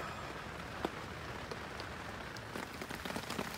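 Hard rain keeps falling on a rain fly tarp at a winter overnight shelter, a constant near hiss broken by louder individual drops striking the fabric, heavier toward the end.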